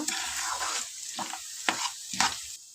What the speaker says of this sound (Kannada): ಈಗ ಎಲ್ಲ ಹಾಕ್ಕೊಂಡು ಚೆನ್ನಾಗಿ ಇದನ್ನು ಮಿಕ್ಸ್ ಮಾಡ್ಕೋಬೇಕೀಗ